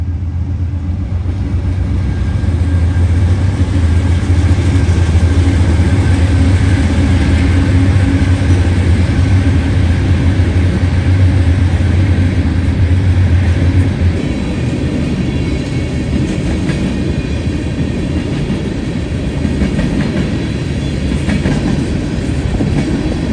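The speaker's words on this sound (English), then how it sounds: "empty ethanol train B840 out of Tampa, Florida, heading back to the BNSF in Chicago, with a BNSF War Bonnet leading the way" An empty ethanol freight train led by a BNSF War Bonnet locomotive rolls past at close range, a loud, steady low rumble with wheel clatter that continues throughout, its deep engine drone easing partway through.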